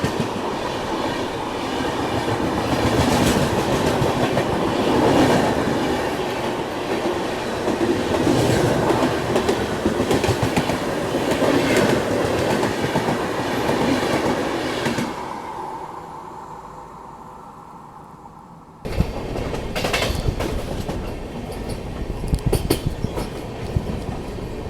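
An Indian intercity express passenger train on the Gorakhpur–Varanasi route runs along the tracks with a loud, steady rumble and rhythmic wheel clatter. It drops away briefly, then returns close and heavy with sharp rail clanks.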